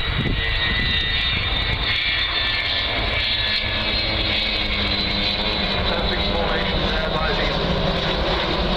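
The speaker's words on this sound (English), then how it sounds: "Just hear Vulcan's Olympus engines coming on there" Rolphs-Royce Olympus jet engines of the Avro Vulcan B2 XH558 spooling up at the Cosford Air Show 2013, a steady, loud broadband roar that holds throughout, with a commentator talking over it.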